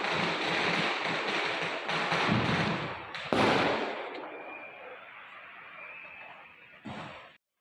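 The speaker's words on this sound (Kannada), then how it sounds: "ಎಲ್ಲ ಕಡೆ ಪಟಾಕಿ." Dense crackling bursts of firecrackers celebrating an RCB cup win, loud and continuous for a few seconds, then fading into a distant hiss with a final short pop near the end.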